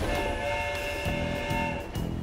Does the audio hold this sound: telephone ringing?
no